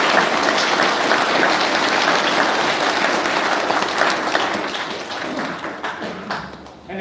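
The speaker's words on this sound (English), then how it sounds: "So we could give our board of trustees a round of applause." A hall audience at a school prizegiving gives a board of trustees a round of applause, loud, dense clapping that holds steady and then tapers off near the end.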